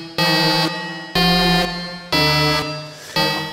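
Synthesized alarm effect made in Tsugi DSP Action software: four loud, evenly spaced electronic buzzer blasts, each a harsh harmonic tone held about half a second with a pitch step midway, alone with no talk.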